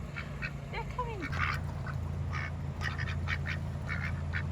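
Several ducks quack in short bursts, near and fairly clear, over a steady low hum outdoors.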